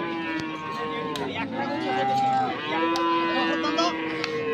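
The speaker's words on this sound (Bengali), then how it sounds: "এখানে যে ষাঁড় গরুগুলো কেনাবেচা করা হচ্ছে" Bulls at the Ambari cattle market in Dinajpur, brought by a Chandpur farmer for Qurbani, let out long, deep, loud moos close by, with people talking in the background.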